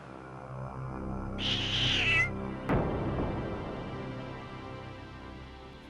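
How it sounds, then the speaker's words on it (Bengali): A cat gives a single drawn-out, falling meow, clear and close, followed by a sharp thump and lingering background hum. "এক্ষুনি বিড়াল আসছে"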